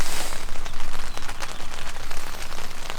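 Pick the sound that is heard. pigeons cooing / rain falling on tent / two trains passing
rain falling on tent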